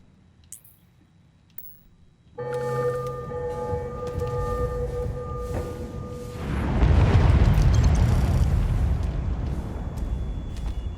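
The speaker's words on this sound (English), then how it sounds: "we're going to go to the missile pod and execute test sequence" A wailing alarm siren starts after a short quiet stretch during a missile pod test sequence in Starfield, then a loud rumbling launch roar swells over it and holds to the end, no talk.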